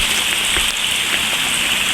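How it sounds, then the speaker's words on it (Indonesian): Heavy tropical downpour drumming steadily on surfaces outdoors, a dense, loud, unbroken hiss with no pauses and no voices. "hujan ini kayaknya nggak mau reda lagi"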